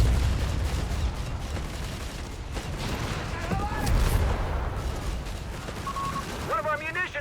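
Rapid flak 30 anti-aircraft gunfire in the Company of Heroes 3 strategy game, a dense continuous burst of shots under commentator speech, with other battle noise and unit voice lines toward the end.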